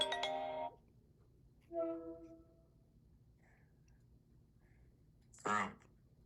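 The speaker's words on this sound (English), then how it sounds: "I'm getting a phone call." A mobile phone ringtone plays a short melodic chime, pauses, then sounds again briefly, followed by a quick rising electronic tone, all faint over a low hum in a quiet room.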